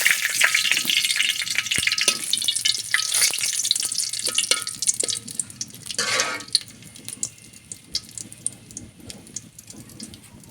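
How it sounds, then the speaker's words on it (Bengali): Bay leaves dropped into hot oil for a village-style country chicken curry, giving a loud, close, continuous crackling sizzle that dies down slightly partway through, with light spatters and no voices. "তেলের মধ্যে দিয়ে দিলাম প্রথমে তেজপাতা"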